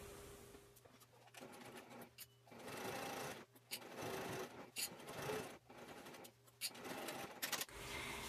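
A sewing machine top-stitches a fabric bag handle, its motor whirring in repeated bursts of steady stitching with short pauses between runs, close and fairly quiet.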